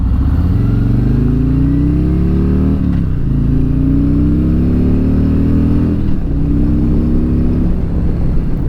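A 2019 Harley-Davidson Street Glide 114 motorcycle accelerates on the road, its loud, deep engine rising steadily in pitch through several gear shifts, close to the rider with constant wind rumble.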